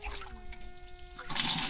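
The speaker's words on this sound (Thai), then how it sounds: "มีสายน้ำไหลเลยนะ" A stream of water runs continuously with a soft, steady trickling and gurgling. It is fairly close, the flow grows louder and brighter near the end, and there is no talk.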